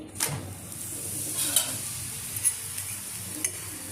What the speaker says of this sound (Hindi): हाई फ्लेम में करके ना दोनों साइड घी डाल करके सेक लूँगी